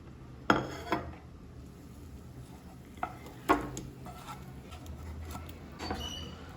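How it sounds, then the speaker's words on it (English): Butter garlic prawns moved from a pan onto a ceramic plate, with a few sharp close clinks and scrapes of utensil on dish over a quiet background hum. "Let's kill the heat and transfer it into a ceramic plate"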